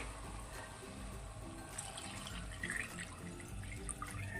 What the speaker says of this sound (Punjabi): ਅਸੀਂ ਇਹਦੇ ਵਿੱਚ ਚਾਰ ਕੌਲੀਆਂ ਭਰ ਕੇ ਪਾਣੀ ਦੀਆਂ ਪਾ ਦਾਂਗੇ